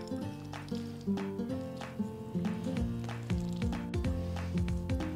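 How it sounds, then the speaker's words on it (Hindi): Fresh chhena being squeezed by hand to press out its water, giving soft, wet squishing sounds in uneven repeated bursts up close. "अब हम इसको अच्छी तरीके से निचोड़ लेंगे"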